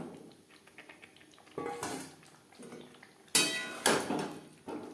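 Potato and cauliflower pieces tumble into a pan for a cauliflower curry, giving a few bursts of clattering knocks and scraping, close and moderately loud between quieter pauses, with no one speaking.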